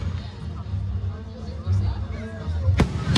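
Fireworks show in Arthur, Illinois, with a sharp loud bang near the end rising over a low rumbling backdrop, crowd murmur and people talking.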